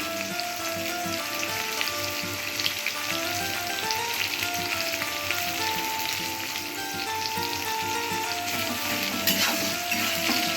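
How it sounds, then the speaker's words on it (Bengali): Onions frying in a pan for a thin-gravy mutton curry, giving a steady, close, continuous sizzle with tonal background music throughout. "পেঁয়াজটা একটু ভেজে নেব"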